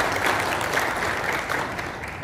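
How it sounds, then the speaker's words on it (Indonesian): An audience at a Ministry of Religious Affairs event in Central Java applauding, a steady wash of clapping that holds at an even level from start to finish with no clear voices. "Tepuk tangan untuk Indonesia."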